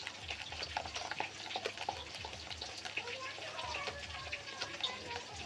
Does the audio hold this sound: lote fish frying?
yes